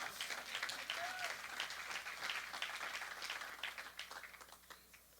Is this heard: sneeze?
no